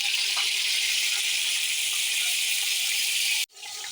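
Chopped tomatoes hitting a hot pan for beef pulao, a loud continuous hissing sizzle close up that cuts off abruptly near the end, then resumes more softly.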